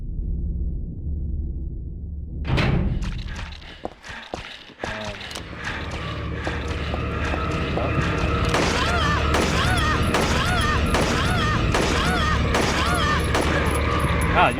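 Rapid gunfire in Silent Hill 3, a burst of repeated shots after a quiet opening, then dense layered game noise with the shooting continuing loud and close.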